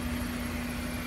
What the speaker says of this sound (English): I'm turning on the ignition on the 2010 Ford F-150 Platinum model